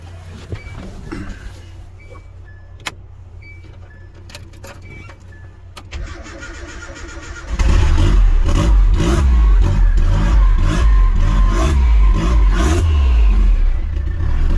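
A 400hp turbocharged Nissan Hardbody pickup with a rebuilt motor and new clutch cranks after faint keys and clicks, then fires up and revs loudly close by, its deep engine roar filling the rest of the clip.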